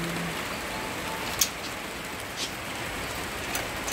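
Heavy rain on a morning in the Netherlands, a steady, dense hiss of drops on surfaces with a few sharper splashes, heard alone without any talking.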